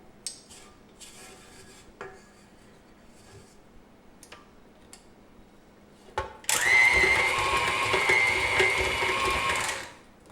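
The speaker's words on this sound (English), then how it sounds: "I'm going to beat it one more time once I scrape the edges down." Piragi dough being beaten in a bowl: light scraping and tapping at first, then a loud, steady whirring churn for a few seconds that stops abruptly.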